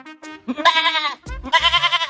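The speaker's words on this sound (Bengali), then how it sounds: "এই যে এই ছাগলটা ভাই" A goat offered for Qurbani Eid slaughter gives two close, loud, wavering bleats one after the other, each with a shaky, vibrato-like quiver, with no talk over them.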